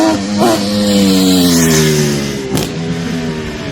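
A loud Kawasaki H2 motorcycle engine revs up with rising harmonic tones, holds, then eases off after a brief blip, close by with no talking.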